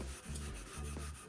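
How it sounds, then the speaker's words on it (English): A stain is scrubbed with The Pink Stuff abrasive cleaner, producing soft, quiet back-and-forth rubbing strokes in a steady rhythm with no voices. "This is taking a bit of rubbing."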